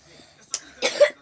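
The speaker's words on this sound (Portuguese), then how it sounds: "Então a gente tá com essa tosse" A person with a cough coughs twice, a short hoarse burst midway and a longer, louder rough cough near the end, close and alone with no talk.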